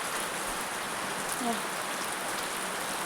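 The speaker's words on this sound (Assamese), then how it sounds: "বৰষুণত খুব চাওক কিমান বৰষুণ" Rain falls steadily outdoors near paddy fields, a soft even hiss of drops close around with no distinct voices.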